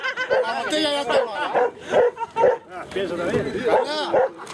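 A dog yips and barks in short, irregular bursts close by, mixed with whimpering, while people talk around it at a trophy presentation.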